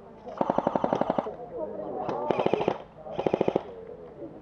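Airsoft gun fires loud rapid bursts at an outdoor field, three distinct strings of quick snapping shots separated by pauses, with voices talking faintly in between.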